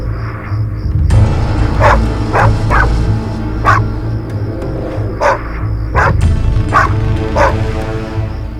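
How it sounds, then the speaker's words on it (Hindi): A dog in the action drama Warrior, a Turkish series dubbed in Urdu, barks loudly and repeatedly, about eight sharp barks in a steady, insistent rhythm close by. "ये कुत्ता इतना भौंक क्यों रहा है आखिर?"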